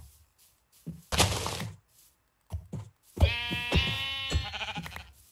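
A Minecraft goat bleats several times in a row, the calls loud and close and set among short thuds and clicks from the game, with no talking.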